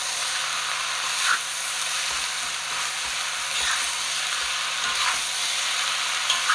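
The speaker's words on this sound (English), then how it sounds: "Listen to it sizzle." Kale kimchi fried red rice with seasonings sizzles steadily in a wok, a constant bright hiss with faint stirring scrapes and no talk.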